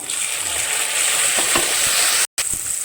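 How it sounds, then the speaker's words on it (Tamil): Cumin seeds splutter and crackle in hot oil as sliced shallots fry in a pan for an eggplant kuzhambu, a steady close sizzle with scattered pops and a brief dropout near the end. "கால் டீஸ்பூன் சீரகம் ரெண்டு பொறிஞ்சு வரட்டும்"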